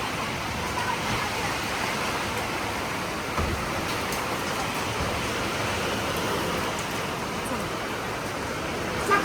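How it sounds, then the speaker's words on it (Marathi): A sudden heavy downpour roars as a loud, unbroken wash of noise for the whole stretch, with strong wind, steady and close, and no distinct voices. "पहिल्यांदा एवढा जोरात पडला पावसा."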